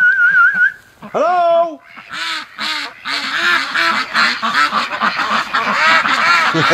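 Breeding ducks kept in a snowy garden quack loudly in a busy, overlapping chorus of many birds close by. A single voice calls first, then the whole flock joins in with rapid, nasal quacks.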